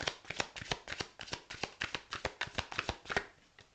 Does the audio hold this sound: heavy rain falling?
no